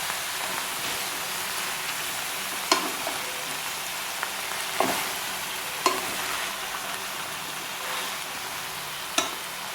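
Vegetables for Kerala aviyal sautéing in oil in a pan, a soft continuous sizzle with a few sharp stirring clacks scattered throughout, no talking.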